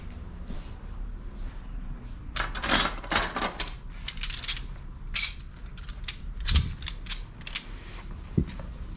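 Metal wrenches are picked up and handled during 2001 Miata 6-speed transmission rebuild work, giving clusters of close, light metallic clinks and rattles in irregular bursts over a low background hum.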